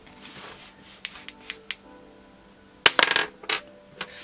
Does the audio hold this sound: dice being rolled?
yes